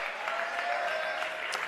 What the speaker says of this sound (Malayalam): നിങ്ങളുടെ കൈയടി നിർത്തരുത്